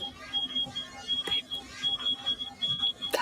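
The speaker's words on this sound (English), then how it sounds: "Do you hear that? That beep shows where the creature is." Soft, high electronic beeps from a creature tracker, repeating in a steady rhythm of short even tones, quiet and close, with faint background noise.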